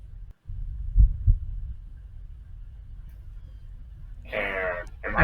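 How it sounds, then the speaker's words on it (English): A slow, muffled heartbeat thumps low and faint in a horror roleplay scene, a few soft beats over a dull hum before a harsh breathy burst near the end. "And am I hearing a heartbeat?"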